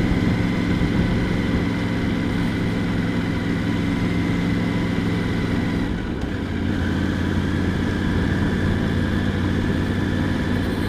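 Triumph Tiger 900 GT Pro motorcycle engine running steadily and loud throughout, a continuous idling drone with a brief dip in the middle before settling again.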